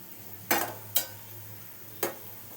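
Cashews and raisins drop into hot ghee in a pan, each landing as a sharp sizzling burst that fades quickly. Three distinct bursts stand out over a quiet background.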